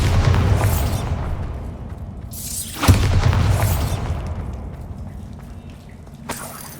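A Bombarda spell blast in Hogwarts Legacy, with a loud low boom and crackling burst at the center, set amid ongoing magical combat rumble, with smaller pops before and after.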